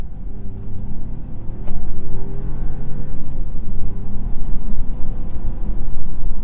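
A 2024 Buick Envista ST engine drones and rumbles steadily from inside the cabin, swelling louder partway through as it accelerates hard, with no talking.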